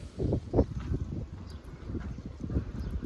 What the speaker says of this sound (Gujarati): પવન બહુ ઉડે છે, વાતાવરણ થઈ ગયું છે એક નંબર.